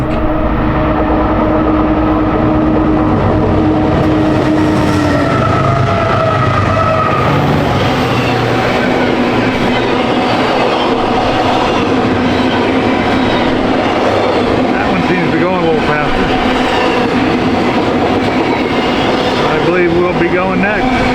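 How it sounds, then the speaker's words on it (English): A train blows past at close range, a loud continuous roar with rhythmic clickety-clack of wheels and rail, steady throughout with some faint horn-like tones early on. "second train blew past us"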